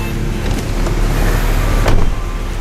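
Honda HR-V car engine idling steadily while warming up before dawn, a close, continuous low rumble with no talking.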